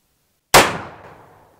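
A black powder revolver fires a single sharp, loud shot after a moment of silence, with a bright crack that decays into a short fading echo.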